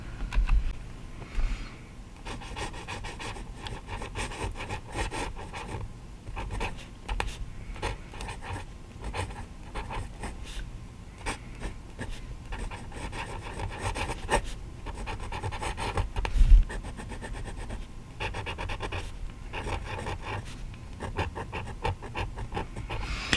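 A Majohn B25 orange fountain pen with a freshly smoothed nib scratches across paper in soft, papery strokes, close and quiet, running continuously with small bursts and pauses and no talking.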